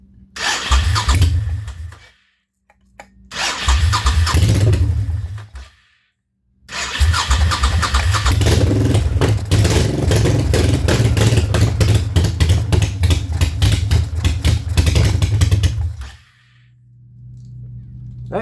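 A jet ski boat engine with a homemade intake and a Holley carburetor cranks and catches twice, dying each time, then starts on the third try and runs roughly for about ten seconds before cutting off. It is loud and close.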